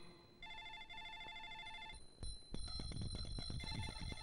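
An old-style telephone rings with bright, repeating electronic trills for a couple of seconds, then stops and gives way to clattering and handling noises close by.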